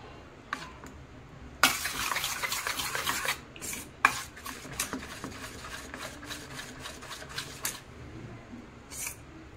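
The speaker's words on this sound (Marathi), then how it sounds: "थोडं थोडं पाणी टाकून आपल्याला मिक्स करायचं आहे चांगलं" Coriander bhaji batter with gram flour, salt and a pinch of soda is mixed by hand in a bowl as water goes in bit by bit, making close, wet, rubbing stirs in bursts with short pauses.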